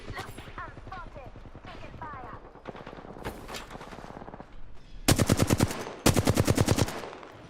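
Gunfire in Apex Legends: several quick bursts of automatic fire, then two loud, dense volleys near the end, mixed with game voice lines and a person talking.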